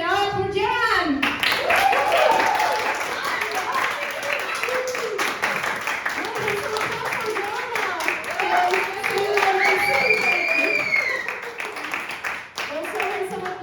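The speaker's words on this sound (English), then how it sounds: "Ladies and gentlemen, give it up for Joanna" Audience at a storytelling event claps for a performer, with steady applause running throughout as cheering and voices rise over it.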